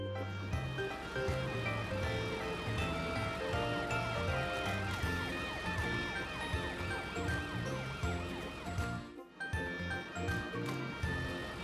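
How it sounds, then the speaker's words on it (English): Cartoon ambulance siren in a children's animated show about rescue vehicles, a steady wailing tone over bright background music, continuous and fairly loud with a brief dip near the end. "Matt went to ask Amber the ambulance to come and help"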